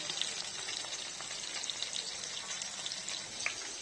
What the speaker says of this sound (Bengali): এখানে মাছটাকে হালকা ভেজে নিচ্ছি।